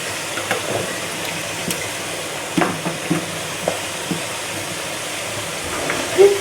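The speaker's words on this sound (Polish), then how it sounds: "I smażymy na złoty kolor w dużej ilości oleju." Potato fries cook in plenty of oil with a soft, steady sizzle and occasional clinks and stirring sounds, no talking.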